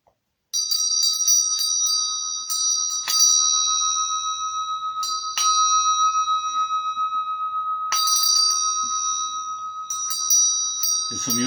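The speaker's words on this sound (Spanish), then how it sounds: "El sonido de la campana" A bell rings during a satsang, struck repeatedly at uneven intervals with bright metallic tones that ring on and overlap between strikes, close and clear, with no voices.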